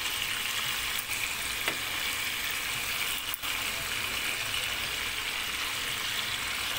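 Tandoori-marinated prawns sizzling in hot oil in a pan, a loud continuous crackling fry with a couple of faint clicks as they are turned, no voices.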